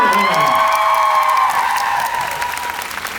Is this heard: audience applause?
yes